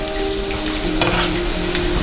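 Sugar is stirred into a sauce for Hainanese chicken rice, a steady sizzling hiss in the pan with a faint scrape of the spoon partway through. It stays close and continuous, and nobody talks over it.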